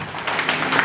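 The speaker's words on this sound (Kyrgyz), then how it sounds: "Кол чабып тосуп алыңыздар." A crowd claps steadily in welcome as a singer is introduced at a Kyrgyz family celebration, a broad, dense patter of applause carrying at an even level through the moment.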